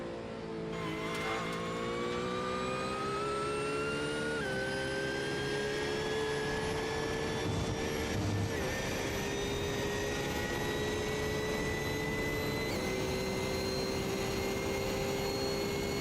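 Onboard engine of a Porsche race car in a sim racing game at Spa, a loud sustained high-pitched drone with steady harmonics rising and falling through gear changes, continuous and close with no talk over it.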